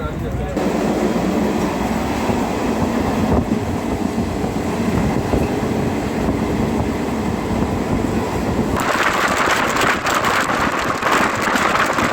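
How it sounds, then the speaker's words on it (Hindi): A festival special passenger train on the Anand Vihar to Saharsa route runs steadily along the line in rain, a continuous loud rumble and rattle heard from inside the carriage, with some voices. "अभी हमारी ट्रेन गढ़मुक्तेश्वर को स्किप कर रही है"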